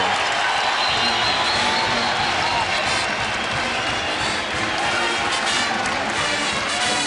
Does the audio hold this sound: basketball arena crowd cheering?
yes